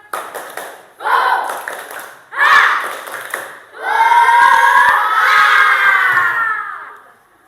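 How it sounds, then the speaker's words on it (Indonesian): Elementary school children perform a rhythmic spirit clap in class, bursts of patterned clapping and chanting that build into loud, sustained group shouting and cheering near the end. "Kita tepuk semangat dulu. Tepuk semangat."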